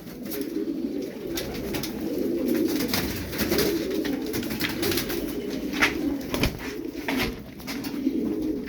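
Tumbler pigeons coo continuously at close range, a low rolling murmur with occasional sharper clicks and wing flutters, and no voices over it.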